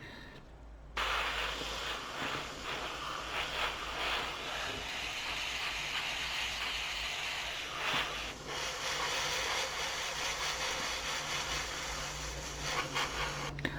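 An airbrush sprays paint in a steady, close hiss that starts after a brief quiet moment and runs unbroken to the end.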